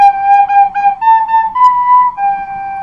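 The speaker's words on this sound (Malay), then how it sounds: "ni bunyi tiupan" A wind instrument blown in a steady tone, a few sustained pitched notes shifting slightly up and down, clear and close, with no talking.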